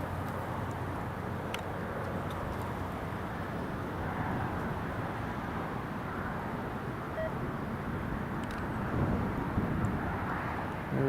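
A distant airliner arriving at Newcastle Airport on a windy day, its engine noise a steady broadband rumble holding at an even level throughout, with no voices.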